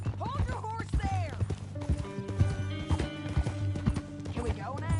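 Horse hooves clip-clop in an uneven rhythm of sharp knocks, with a whinny-like cry near the start, running under people talking.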